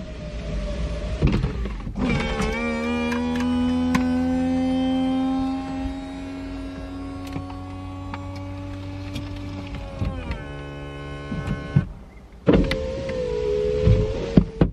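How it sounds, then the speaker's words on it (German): A convertible's electric roof opens in stages, a loud close motor whine with rising and falling tones. The whine runs several seconds, breaks off with clunks, then starts again briefly before stopping. "Komm, ich mache mal das Cabrio auf, okay?"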